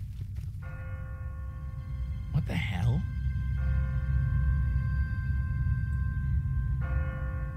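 An automatic church bell on a timer rings out in a video game's deserted city, sustained metallic tolls with long ringing overtones recurring at intervals beneath a brief spoken exclamation.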